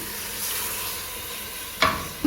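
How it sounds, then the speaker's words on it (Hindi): A steady sizzle of camel karahi frying fills the clip, then a sudden burst of hissing spatter near the end as a glass of water hits the hot pan. "अब हम इसमें 1 गिलास पानी ऐड करेंगे"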